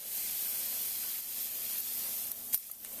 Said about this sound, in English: I'm going to use this invisible glass foam spray cleaner